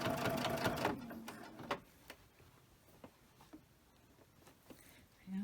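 A sewing machine stitches a fabric sleep mask in a quick buzzing run at first, then slows to scattered single ticks and clicks, close and moderately loud.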